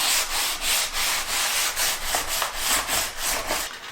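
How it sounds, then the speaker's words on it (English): Glass bottle sanded by hand with 220 grit sandpaper wrapped around a block, a loud close rasping hiss in steady back-and-forth strokes, continuous and without talking. "So the sanding block is a little dull, so I'm going to be using some 220 grit sandpaper."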